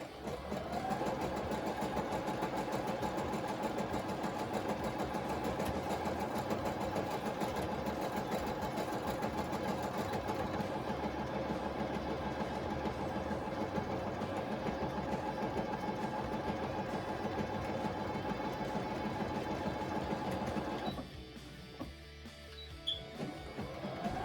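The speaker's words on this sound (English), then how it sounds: "I'm gonna use a zigzag stitch, so I'm adjusting my sewing machine into a number 5" A sewing machine runs a continuous zigzag stitch on leggings fabric, a fast steady mechanical whir and clatter close by for about twenty seconds before stopping.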